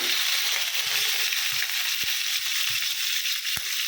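Bitter gourd (karela) slices fry in oil with a loud, close, unbroken sizzle, joined by occasional light taps and clicks of a utensil moving them in the pan.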